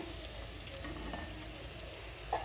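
Ghee heats in a pan that was just used to roast semolina (rava), giving a faint, steady, soft sizzle with a small clink near the end.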